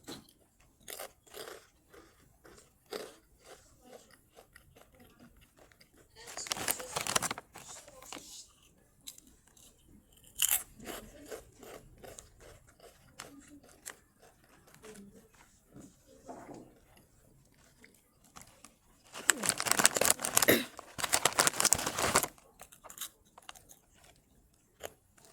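Kkokkalcorn corn snacks being eaten close up: scattered crisp bites and crunchy chewing, with two long, loud bursts of crunching amid quieter mouth sounds.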